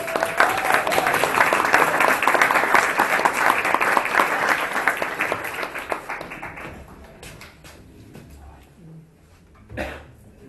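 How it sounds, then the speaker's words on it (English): Warm applause from a VR meetup audience in Brighton welcomes a speaker, starting dense and close for about five seconds, then thinning and fading into scattered claps and a few light taps. "Join me in a round of applause."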